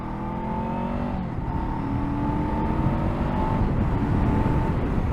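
A 2024 Honda SCL500 scrambler motorcycle engine drones steadily while being ridden, a close, continuous hum with a slight rise in revs and no talking.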